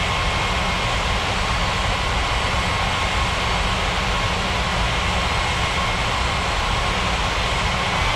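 An aircraft takes off in the game Unmatched Air Traffic Control, heard as a steady, dense engine roar that holds at an even, fairly loud level throughout with no voices.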